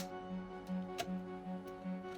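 A handmade clock in an old non-plastic housing ticking faintly and evenly, a few soft clicks over a steady humming drone.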